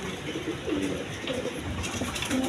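Exhibition pigeons, a tagged pair of cream bar birds, coo in low repeated murmurs, a steady bubbling chorus close by with a few brief louder calls and no talking.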